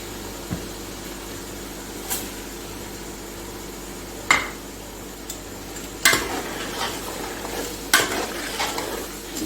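Chicken, chickpeas and spices stir-fried in a pot: a constant sizzle with several sharp metal scrapes and clanks of a spoon against the pan, louder toward the end, no speech.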